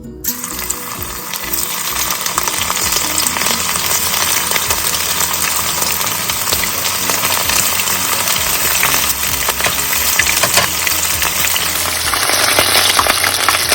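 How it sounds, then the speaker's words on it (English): Beef pieces frying in hot oil give a loud, continuous sizzle close to the pan, a dense crackling hiss that holds steady from start to finish with no speech. "Add oil, once hot, add beef."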